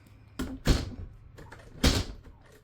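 The door on a 2014 Highland Ridge Ridge Roamer 310BHS RV opens and closes nearby, giving two sharp clunks with some rattle and handling noise between them and no one speaking.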